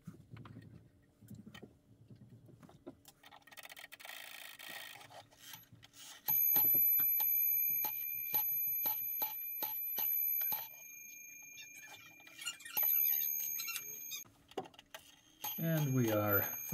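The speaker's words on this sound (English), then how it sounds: "after engaging the chime, we can hear it's striking 3 o'clock" An antique French lantern clock from the 1800s strikes the hour with a run of clear metallic bell tones, preceded by mechanical ticking and clicking of the movement, with some talk nearby.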